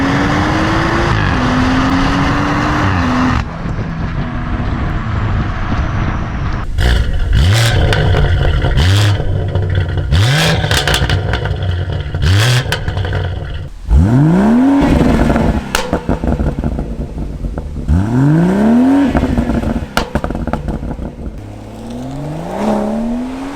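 A BMW M140i fitted with a full Scorpion exhaust drives on the road, its engine revving up through the gears in repeated loud surges, with sharp rises and drops in pitch between shifts.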